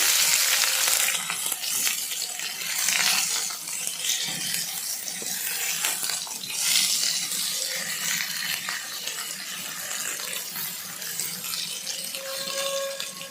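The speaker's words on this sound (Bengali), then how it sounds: "এখানে বিরিয়ানির আলুটা ভেজে নিচ্ছি" Potatoes for biryani frying in hot oil, a continuous hiss and sizzle with occasional stirring scrapes and clinks, fairly close and steady with no voices.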